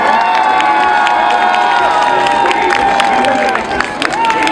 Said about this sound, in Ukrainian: Дякуємо за оплески